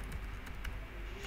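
Quick, light keystrokes on a computer keyboard while entering text in the Tux Paint drawing program, a short close run of clicks with no one talking.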